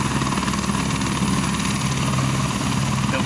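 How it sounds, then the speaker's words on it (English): A helicopter roars close by as it takes off from a helipad in Fiji, its rotor thumping steadily with a loud engine whine throughout. "here's the helicopter taking off"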